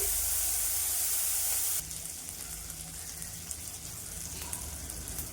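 Prawns frying in hot oil in a pan, a steady close sizzle and hiss that runs throughout, loud at first and then settling lower after a shift partway in.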